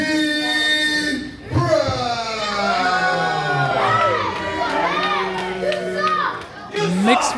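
At a wrestling event, the crowd gives mixed reactions to a wrestler, with shouts, cheers and jeers sustained over a close, loud voice that talks throughout.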